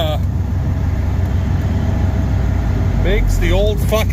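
A Massey tractor fitted with a Perkins engine runs at a steady low drone close by, and someone speaks briefly over it near the end.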